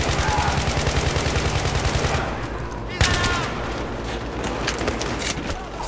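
Automatic bursts from an RPK light machine gun in Battlefield 3, rapid close gunfire for about two seconds, then scattered single shots and a sharp crack amid ongoing battle noise.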